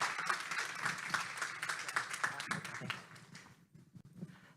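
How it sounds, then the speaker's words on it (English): Applause from a modest conference audience, fairly close and fairly light, with individual claps audible and thinning out after about three seconds into a few scattered final claps. "could we give a round of applause for such fantastic insights?"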